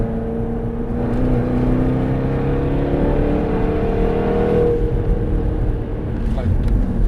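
A Jaguar F-Type SVR's big engine accelerates hard on a track, a loud, sustained in-cabin roar with rising harmonic tones and a shift midway, while people talk over it.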